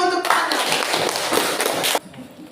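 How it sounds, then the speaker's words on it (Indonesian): Dense hand clapping from a classroom audience during a teaching session, fairly loud and steady for about two seconds before cutting off, with a voice briefly at the start. "tepuk tangan dulu untuk"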